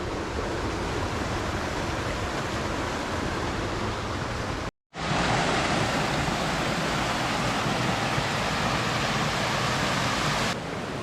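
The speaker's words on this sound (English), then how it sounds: "There was one waterfall up there, then there's a second one here" A waterfall in Wayanad roaring steadily and loudly up close, a continuous broad rush of falling water that cuts out for an instant and then resumes, with no voices.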